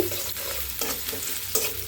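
Cut cauliflower stir-frying in a pan, a loud steady sizzle close up with rhythmic scrapes and knocks of a spatula every half second or so.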